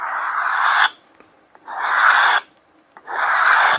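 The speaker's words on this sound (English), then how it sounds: "I'm going to use a card scraper this time, a cabinet scraper" Cabinet scraper drawn along a wooden handle of a double bit cruiser axe, three long rasping strokes with short quiet gaps between them, close and loud.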